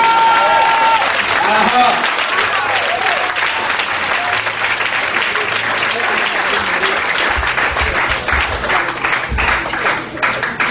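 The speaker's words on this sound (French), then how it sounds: "On peut acclamer la parole de Dieu, frère." A church congregation claps in loud, sustained applause to acclaim the word of God, filling the room steadily throughout with crowd noise under it.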